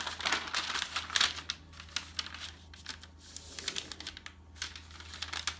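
Paper liner crinkles and creases as it is folded into a wooden soap mold, a string of crisp rustles and sharp snaps close by over a low steady hum, with no talking.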